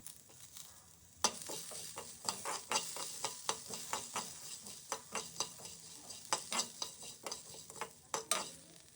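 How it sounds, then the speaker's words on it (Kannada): Garlic and onion frying in a hot pan for a mackerel curry, a steady sizzle broken by repeated sharp scrapes and stirring clinks of a spoon against the pan, close and alone with no talk. "ಇವಾಗ ಬೆಳ್ಳುಳ್ಳಿ ಮತ್ತು ಆನಿಯನ್ನ ಹಾಕ್ಕೋತಾ ಇದ್ದೀನಿ"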